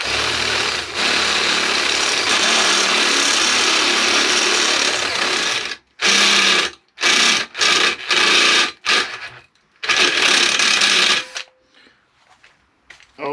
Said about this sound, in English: These step drills, especially when you're drilling larger holes,